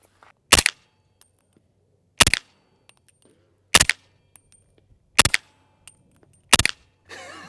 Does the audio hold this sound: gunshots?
yes